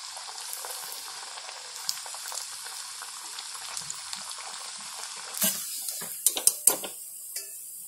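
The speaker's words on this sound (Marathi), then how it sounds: "असे मस्त चांगले ब्राऊन होईपर्यंत तळायचे." Potato and poha snacks deep-frying in hot oil, a steady bright sizzle throughout with louder bubbling bursts and a few clinks near the end, close and unaccompanied by talk.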